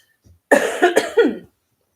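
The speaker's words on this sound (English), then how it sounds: "I know Mommy just coughed." A woman coughs close by, a quick cluster of three or four harsh coughs in a little under a second, preceded by a faint breath and followed by silence.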